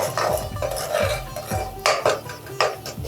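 A spoon clinks and scrapes against a metal pot while methi rice mixture is being stirred, giving repeated sharp metallic knocks and scraping strokes with no voices.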